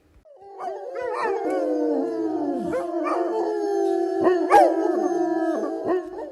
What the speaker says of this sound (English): all the dogs are howling